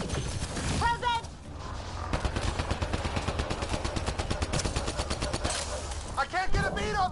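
Rapid automatic gunfire from a Mass Effect firefight, a steady rattling stream of shots with a few bursts of shouted voices at the start and end.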